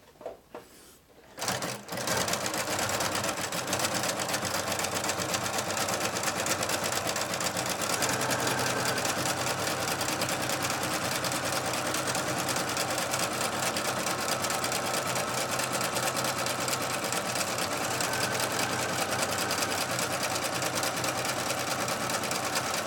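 A Bernina Artista 200 sewing machine runs steadily for about twenty seconds, stitching a scallop pattern with a continuous, even motor whir and needle clatter at close range after a brief quiet start.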